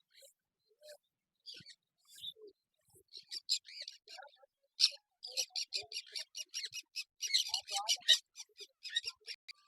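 Budgerigars and pigeons at the Asansol bird market chirp in a bright, busy chorus of short high twitters that grow denser and more constant, heard from close by and fairly faint.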